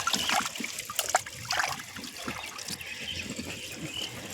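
Small puti fish, a sar punti just caught from a river, splashing and flicking in shallow water in a container, a steady close wet trickling and splattering with no talking.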